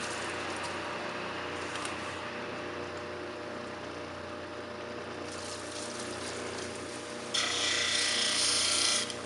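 Wonderstone cabochon being ground on a finer grit cabbing wheel, a steady close rasping hum with the machine running throughout, growing brighter and louder near the end as the stone presses harder.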